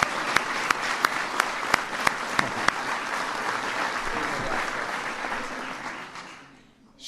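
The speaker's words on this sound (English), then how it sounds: "she got to get a big round of applause." Loud, dense audience applause at the America's Top Cops 2013 ceremony, steady for about six seconds with a few sharper claps standing out, then fading quickly near the end.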